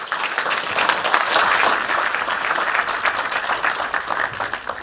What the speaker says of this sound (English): please give Mike Scudamore a very big round of applause.